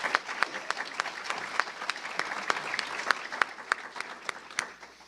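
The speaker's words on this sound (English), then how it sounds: "So let's give him a round of applause one more time." An audience applauds, scattered claps with sharp individual hand strikes standing out, steady and moderately distant for several seconds.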